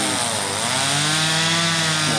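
A chainsaw cutting wood roars loudly and steadily nearby during land clearing, its engine pitch shifting slightly as it cuts.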